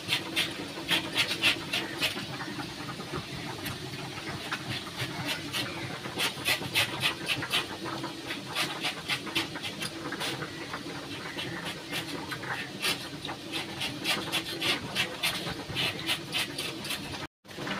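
A sharp bonti blade cuts through young jackfruit in rapid, repeated rasping strokes, close and moderately quiet, a steady scraping rhythm that runs almost without a break.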